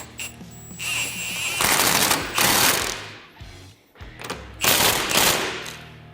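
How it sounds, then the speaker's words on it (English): A nut being fully tightened during a RackBoss rack and pinion install on a Polaris RZR XP Turbo, heard as several loud, close bursts of rapid mechanical rattling separated by short pauses. "We'll go ahead and fully tighten our nut here."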